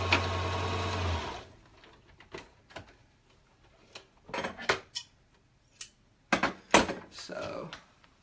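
A sewing machine stitches star-print fabric in a brief, steady whirring burst lasting about a second, followed by scattered clicks, clunks and handling noises of fabric and metal.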